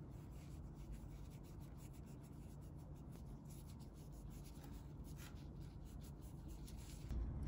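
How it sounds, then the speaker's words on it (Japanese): Resin sphere polished with a fine 2-micron compound, giving a faint, steady rubbing hiss that runs unbroken and close throughout. "そして磨いていきます。"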